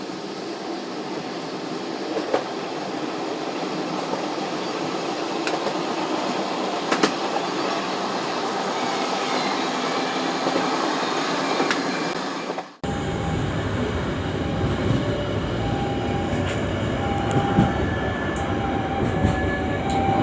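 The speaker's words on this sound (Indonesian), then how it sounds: "kereta Matarmaja kembali diberangkatkan dari stasiun Bekasi" Matarmaja economy-class train pulling out of Bekasi station and running on the rails, a steady loud rumble heard from inside the carriage with a brief cut partway, then continued rolling noise with faint squeals.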